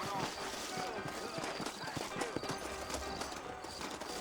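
Horse hooves clip-clop steadily in the Red Dead Redemption video game, a brisk rhythmic trot of sharp knocks running throughout, with a voice talking over the hooves.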